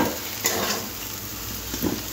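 Taro stolons (kochur loti) frying in oil in a pan, a continuous close hiss and sizzle with a couple of soft spatula scrapes.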